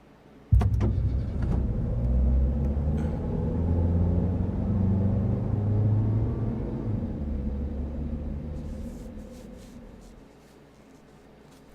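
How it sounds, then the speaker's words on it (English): A car engine in the game Scratches drives away from Blackwood Manor, a steady low rumble that holds for most of the stretch, then fades as the car pulls off, with no voices. "I raced my car and left Blackwood Manor as quickly as possible"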